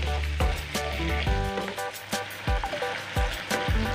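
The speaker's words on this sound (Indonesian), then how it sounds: "Aduk lagi sampai tercampur merata dan kita masak sampai ayamnya" Chicken pieces cooking with green beans in their own juices in a pan, a loud close sizzle with clattering scrapes and knocks as the mixture is stirred.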